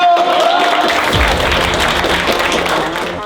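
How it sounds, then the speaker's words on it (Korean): Audience applause fills the room at a televised match between Suwon Cheongho and Jumunjin Dolsoe, a loud, dense wash of clapping that holds steady for about three seconds and fades slightly at the end. "박수 한번 주세요"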